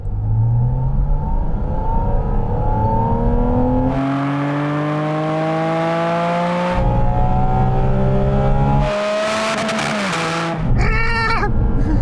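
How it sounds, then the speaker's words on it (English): A sports car engine is wrung out slowly through its rev range, loud and close, its pitch climbing in long smooth sweeps with brief lifts between pulls and a final sharp rise and drop. "I'm just going to wring it out slowly through the rev range."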